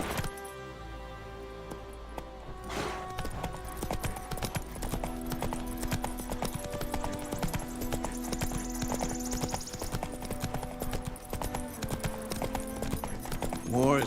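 The horse Roach gallops in The Witcher 3 video game, rapid rhythmic hoofbeats drumming steadily and close for the whole stretch, with a brief neigh near the start and game music underneath.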